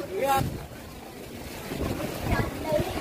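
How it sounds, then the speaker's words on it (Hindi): Strong, gusty wind blowing along the seafront near Haji Ali Dargah in Mumbai, buffeting close to the microphone in a steady loud roar with surging gusts, while someone speaks over it. "इतनी तेज हवा चल रही है ना, आंधी तूफान जैसी फास्ट हवा"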